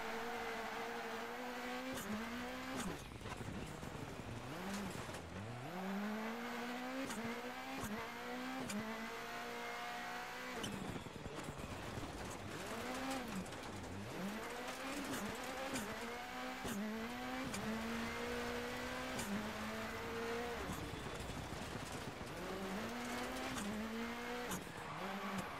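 A rally car screams through a lap in the Dirt Rally 2.0 video game, its engine revving up and down through repeated gear changes with brief tire noise, loud and continuous.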